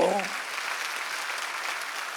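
Crowd applause fills the room steadily after a brief voice at the start, a dense wash of clapping from many people at a Korean church Sunday worship service.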